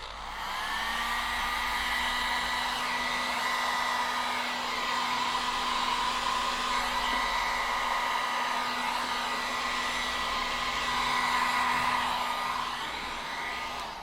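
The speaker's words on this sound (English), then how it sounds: "you can use a blow dryer to dry it sooner if you're impatient like I am" A handheld blow dryer blows continuously at close range with a steady, even whine, drying an alcohol ink flower painting, with no voices over it.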